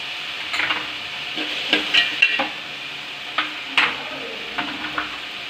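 Salted tomatoes cook in a pan for a Tamil pesarattu ginger chutney, with a soft steady sizzle broken by several scraping stirs and light clinks of a spoon against the pan.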